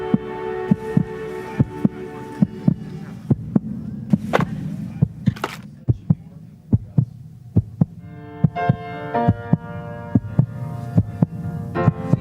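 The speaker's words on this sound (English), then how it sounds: "This song was created with heartbeats of children in need." Heartbeats of children set into a song: regular thumping beats repeat steadily throughout, layered with a sustained hum and tonal musical chords that swell in later, no speech.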